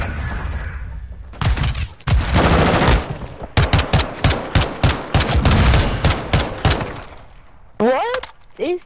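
Rapid bursts of automatic gunfire in a shooter video game, loud and close, coming in choppy volleys separated by short gaps, with brief voice-like sounds near the end.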